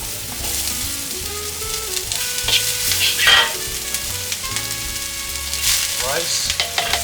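Chopped onion frying and being stirred in a hot pan for black garlic fried rice with buah keluak, a steady close sizzle with scraping stir strokes and no talk.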